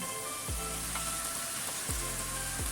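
Radish and dried bean curd stir-frying in a pan with a little starch-thickened liquid, a steady close sizzle broken by a few scraping stirs of the spatula.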